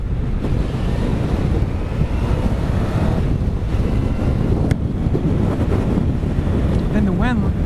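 Wind roars over the microphone as a sportbike travels at speed on Maui, a loud, steady, low buffeting rush that continues throughout.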